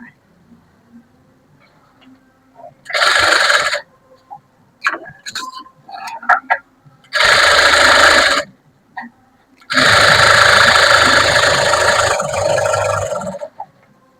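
A sewing machine stitches a sleeve hem in three separate runs: two short bursts of buzzing motor whir and then a longer sustained run, with quiet gaps and light handling clicks between them.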